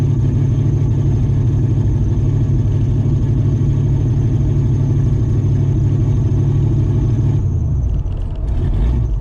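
A turbocharged LS V8 in a Camaro runs with a loud, deep, steady rumble for several seconds before the engine note drops away near the end.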